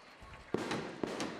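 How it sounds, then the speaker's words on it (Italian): Fireworks at a procession of the Saints Medici, two sharp distant bangs about half a second apart with crackling and rumbling echo in between. "Ecco gli spari che non si fanno mancare neanche quest'anno, però non riusciamo a vederli."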